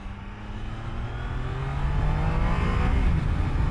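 A Triumph Daytona 660 motorcycle riding on wet roads near Munich, its engine note climbing steadily as it accelerates, with rising road and wind roar and no voices.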